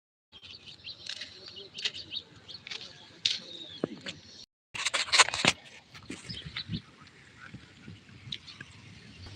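Sparrows chirp at a plant nursery, with many quick, bright calls at varying distances, some close and loud bursts, over a quiet outdoor background with brief breaks.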